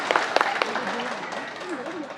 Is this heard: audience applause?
yes